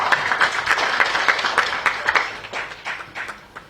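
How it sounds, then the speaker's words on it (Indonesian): Applause from a meeting audience at a government disaster-response session, a brief scattered clapping that starts fairly full and then fades over a few seconds. "mohon tepuk tangan dulu"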